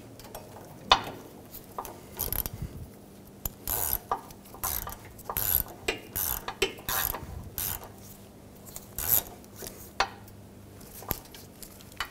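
A ratchet tightens bolts on the rear ABS sensor bracket of a 2003-2008 Honda Pilot, giving several bursts of rapid clicking with short pauses between them, close and fairly loud, with no one talking.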